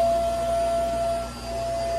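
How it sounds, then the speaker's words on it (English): A vacuum cleaner running steadily in a hair salon, a continuous whining hum with a constant high tone that briefly dips before resuming. "Oh, someone's vacuuming."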